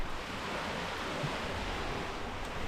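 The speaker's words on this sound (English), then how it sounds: "In fact, the sea is here now." Sea waves washing in as a steady, broad roar of surf mixed with wind buffeting the microphone, constant and fairly loud with no talking.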